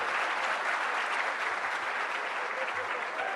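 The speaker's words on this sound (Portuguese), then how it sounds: "Aplaudir." An audience applauds at a lecture held at the Agropec event, with dense, steady clapping from a crowd that runs without a break and stays at moderate loudness from start to finish.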